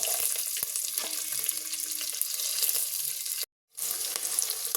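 Chopped onion, curry leaves and green chillies fry with cumin in a pan, giving a continuous close sizzle with faint stirring clicks. A short silent gap breaks the sizzle near the end.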